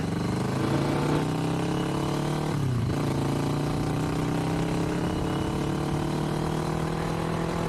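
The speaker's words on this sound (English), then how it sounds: "this isn't the loudest exhaust I've ever heard, but it's not the quietest either" A 2021 Kawasaki Vulcan S 650 motorcycle idles steadily with a low rumbling exhaust, briefly blipping once before settling back to idle.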